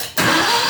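A Bobcat 743 skid steer engine fires up abruptly after a brief quiet moment, jumping straight to a loud, dense roar close by.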